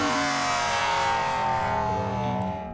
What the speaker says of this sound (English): Basically this is a resampled bass.